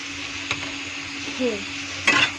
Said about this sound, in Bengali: আলুটা একটু ভালো করে নেড়ে চেড়ে এর মধ্যে আমি জিরা আদার পেস্ট ঢেলে দেবো 2 চামচ